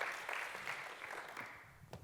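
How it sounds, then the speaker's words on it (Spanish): A conference audience applauds a doctor being welcomed to give a talk on emergency-room nutrition, with a short burst of clapping that starts strong and gradually fades. "Por favor, un fuerte aplauso para el doctor Rafael Antonio Pérez."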